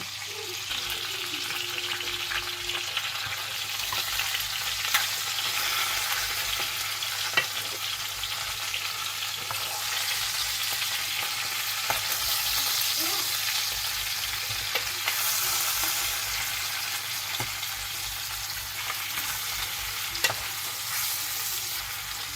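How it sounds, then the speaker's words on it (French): Chicken for a chicken-in-cream dish grills in a pan, giving a steady, close frying sizzle with light stirring and scraping throughout, with no talking. "Donc, on laisse griller tout ça. Et on va le retourner après."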